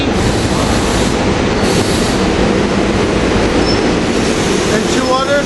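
SEPTA Silverliner IV railcars arriving at Market East: a loud, continuous rumble of rolling wheels and car noise, with squealing wheels rising near the end and faint speech beneath.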